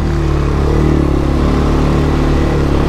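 A Can-Am 1000 R off-road vehicle's engine runs loud and close, with a throaty, steady rumble and slight revving swells throughout and no voices.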